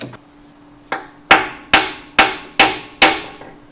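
A steady run of hard hammer strikes on a stuck 360 engine from a 1977 Dodge Monaco, six blows evenly spaced after a lighter first tap, each ringing briefly and loud up close.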